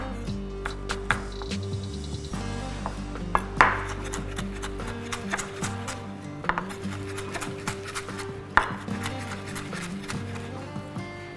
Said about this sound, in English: So we've got here some ginger, which I'm about to slice.